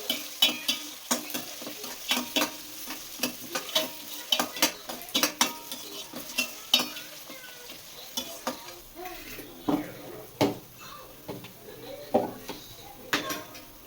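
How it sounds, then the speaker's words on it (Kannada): Onions frying with spices in a pan for mutton biryani, a soft sizzle broken by repeated scraping and clinking of a spoon stirring against the pan, fairly quiet and close. "ಈರುಳ್ಳಿನ ಗೋಲ್ಡನ್ ಬ್ರೌನ್ ಬರೋವರೆಗೂ ಸ್ವಲ್ಪ ಫ್ರೈ ಮಾಡ್ಕೋಬೇಕು."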